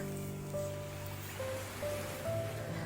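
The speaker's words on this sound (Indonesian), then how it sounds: "Rasakan getaran lembut ombak yang berirama, mengajak Bunda untuk merasakan kehadiran setiap momen." Gentle ocean waves wash in a soft, steady rhythm, quiet and distant, under calm sustained music tones.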